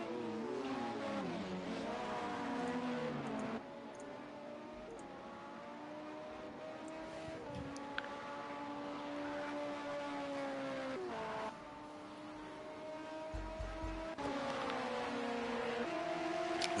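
LMP2 prototype race cars lapping the Indianapolis road course in a racing game, engines howling through rising and falling gear changes with repeated upshifts, loud and sustained, joined by brief passing cars.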